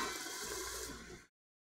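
Water poured into a hot pan of Brussels sprouts makes a loud, steady hissing rush of steam that lasts just over a second and then cuts off abruptly.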